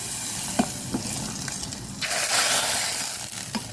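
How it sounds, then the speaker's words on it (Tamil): Fennel seeds and cumin frying in hot oil for a tempering poured into moringa leaf soup, a loud sizzling hiss that surges midway, with a few light clicks of utensils. "சோம்பு கொஞ்சம் சீரகம் நல்லா செவக்க பொரிஞ்ச உடனே சூப்பில் ஊற்றிக்கலாம்"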